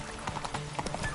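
Hoofbeats of Roach, the horse in The Witcher video game, clip-clopping in a quick uneven run over a brief moment, fairly close and moderately loud, with no talk over them.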